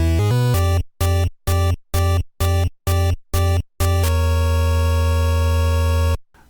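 A chiptune death jingle from the NES game Spy Hunter, marking the player's car being destroyed: eight rapid, evenly spaced buzzy blips followed by one long sustained electronic tone that cuts off abruptly, loud and alone.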